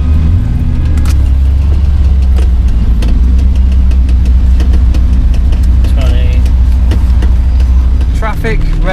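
A TVR sports car engine idles loudly and steadily up close after breaking down in rain and traffic, a deep low rumble with faint background ticks and chirps over it.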